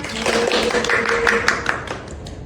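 A classroom of students claps hands together in a short, lively burst, the sharp claps crowding close with a faint voice or two mixed in during a lesson.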